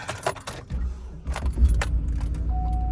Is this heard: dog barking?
no